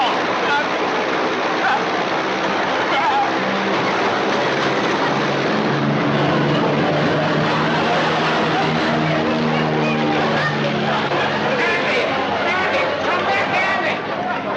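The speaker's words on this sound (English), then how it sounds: "There's some crazy guy taking off out of a hangar over there." A propeller airplane roars loudly and continuously while taking off from a hangar, the engine drone steady and close throughout, with people talking over it.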